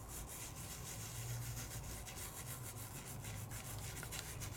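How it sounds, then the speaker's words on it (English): Fingertip rubbed around over sticky adhesive on a craft surface, a soft continuous close friction hiss with a low steady scrubbing texture throughout, quiet and alone without talking. "I'm just going to rub it around"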